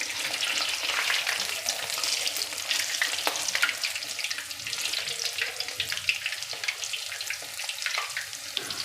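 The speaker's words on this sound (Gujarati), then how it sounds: "હવે ઝારાની મદદથી આપણે એને પલટાવી લઈશું।" Patti bhajiya, chilies coated in dry flour, fry in hot oil and are turned with a slotted spoon. The oil crackles and bubbles loudly and steadily throughout, with faint metal scrapes from the spoon.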